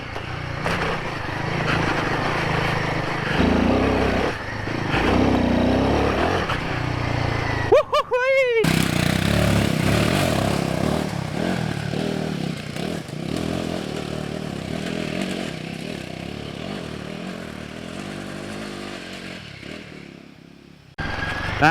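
A Royal Enfield Himalayan 450 motorcycle ridden off-road on technical terrain, its engine revving and labouring with clattering and scraping over rough ground. A rider talks over it throughout, with a brief sharp disturbance partway through and a drop near the end.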